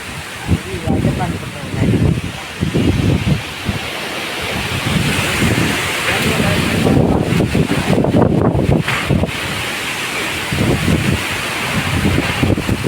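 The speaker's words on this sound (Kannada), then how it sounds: "ಗಾಳಿ ಬಿಟ್ಟೈತೆ ನೋಡ್ರಿ ನನಗೆಲ್ಲ ಮೈಕು ಎಲ್ಲ ಗಾಳಿ ಬರ್ತೈತೆ" Strong gusts buffet the microphone in rumbling, uneven bursts, rising and falling throughout, with voices partly buried beneath the wind noise.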